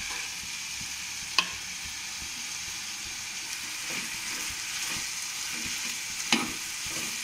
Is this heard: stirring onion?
yes